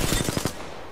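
A short, rapid burst of automatic gunfire in a video game, about six quick shots in half a second, loud and close, trailing off into a fading echo.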